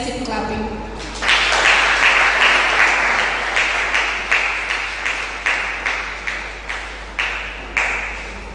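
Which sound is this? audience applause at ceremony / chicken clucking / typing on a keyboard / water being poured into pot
audience applause at ceremony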